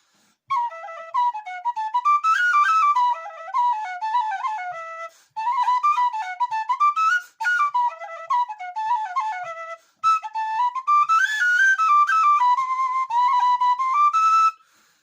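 A tin whistle plays a bright, quick melody in phrases separated by short pauses, clear and close with nothing else behind it.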